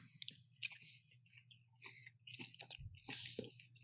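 Close, quiet chewing of food: moist squishing, small clicks and crunchy bites in an irregular rhythm, with a soft low hum beneath and no talking.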